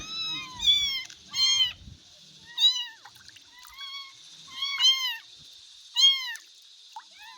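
A cat undergoing minor eye surgery meows about six times in short, rising-and-falling calls spread across several seconds, close and clear, with a faint splash early on.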